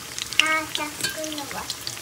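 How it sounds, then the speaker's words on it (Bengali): Ash gourd fritters sizzle and crackle in hot oil with soft spattering pops, while a faint voice murmurs in the background. "এখানে দ্বিতীয়বার বড়া ভাজা হচ্ছে"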